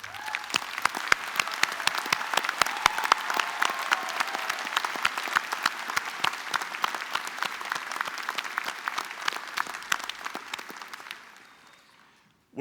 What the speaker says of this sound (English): Ladies and gentlemen, please honour them with your applause.